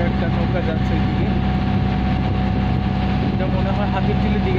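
A small boat on Hatirjheel lake in Dhaka passes with a steady, continuous motor drone and low rumble, holding level throughout, with water and city ambience blended in and talk under it.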